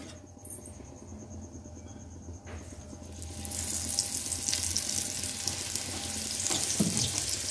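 Parathas fry in a generous amount of oil. The first few seconds are fairly quiet, then a bright, hissing sizzle breaks out and stays steady and close, growing a little louder toward the end.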